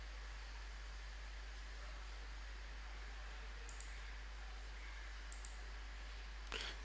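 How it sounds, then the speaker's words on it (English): A computer mouse gives a few faint, isolated clicks, spaced a second or more apart, over a steady background hiss with no talk. "click on customer login."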